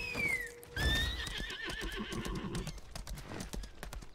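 Horse hooves clip-clop steadily in a video game as a mount is ridden, with a loud whinny near the start and a brisk, close rhythm of hoofbeats running throughout.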